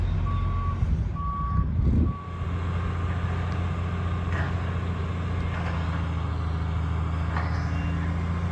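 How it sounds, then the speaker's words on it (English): A dump truck reversing at a solar site preparation, its backup alarm beeping in a regular rhythm over a steady diesel engine rumble, fairly close. "That's like classic dump truck move."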